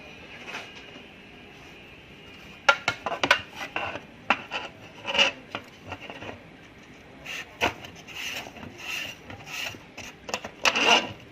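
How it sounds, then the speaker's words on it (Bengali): Potatoes pushed across a handheld slicer to make homemade chips. Close, irregular rasping strokes start after a quiet opening and come in quick bursts with short gaps, with no talking. "এখন এরকম কোনো স্লাইসার দিয়ে আপনি স্লাইস করতে পারেন"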